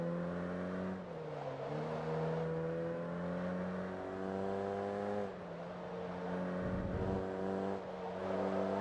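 A racing car engine in Forza Motorsport 2 drones with a throaty, growly tone, holding steady revs with brief dips as it shifts gears, loud and close with no talking over it.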